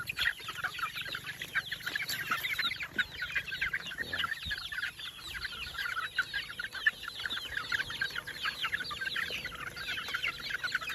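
Chickens cluck busily during a hot-weather feeding of wet feed, dense overlapping clucks and chatter continuing steadily throughout at close range.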